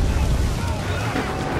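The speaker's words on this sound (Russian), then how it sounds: "Вот эта волна там идет." Ocean waves and a sailing ship in the video game Assassin's Creed 3, a steady broadband rush of water and wind-like noise with low rumble, continuous throughout the short stretch.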